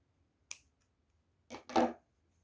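Yarn is cut with scissors during crochet work on a watermelon-style earphone pouch: one sharp snip, then a brief pause and a softer double rasp of the blades closing, close and quiet.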